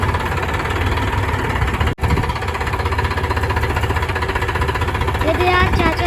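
A tractor engine runs steadily with a heavy, rattling chug while a rotavator is being fitted. The engine drones on with a brief interruption, and voices are heard nearby.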